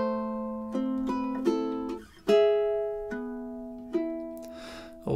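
The opening two measures of A Little Flower are plucked more slowly on a low G ukulele, single notes and soft chords spaced out and left to ring, close and quiet with no voices.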